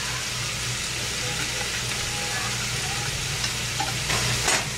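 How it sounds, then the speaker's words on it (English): Cut-up butter melts in a pan on the stove while being stirred for a simple homemade Alfredo sauce. A soft, continuous sizzle comes with light scraping from the stirring and a low steady hum, and no one speaks. "melting the butter will go much faster if you stir it around and it's cut into little pieces."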